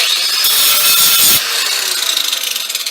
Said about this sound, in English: So I'm just going to get a broken bit and I'll grind that, same reason, to clean it up